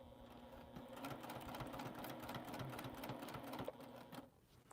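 A sewing machine stitches quilt seams in a steady, close, continuous mechanical whir with a rapid needle rhythm, then slows and stops near the end.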